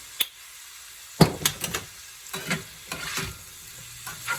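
Butter and olive oil sizzle in a stir-fry pan for shrimp and mixed vegetables, giving a steady close crackle broken by several sharper spits and clinks of utensils, with no voices.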